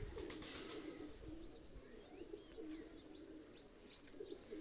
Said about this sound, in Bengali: দুইটা কবুতর আমি ছেড়ে দেখাচ্ছি